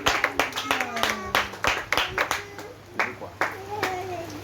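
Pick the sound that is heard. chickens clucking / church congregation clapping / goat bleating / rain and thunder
church congregation clapping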